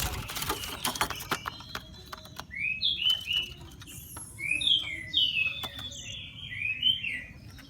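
An orange-headed thrush (anis merah) sings in short bright chirps and whistled phrases, clustered in bursts against faint background noise and some early clicks.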